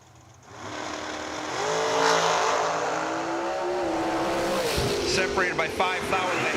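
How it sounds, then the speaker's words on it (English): An American dragster launching and roaring down a drag strip, its engine rising sharply and holding loud before pitching down as it passes. An announcer talks over it. "And I think that's an American dragster over in the right lane."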